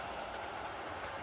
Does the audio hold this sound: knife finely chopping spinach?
no